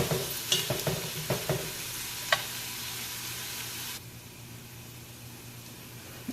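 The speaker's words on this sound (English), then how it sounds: "So now I'm going to put the bell pepper in there. Just mix it up and fry it for about 2 more minutes." Bell pepper stirred and frying in a pan, a steady sizzle with several clanking stirs of the utensil early on, the hiss dropping lower for the last couple of seconds.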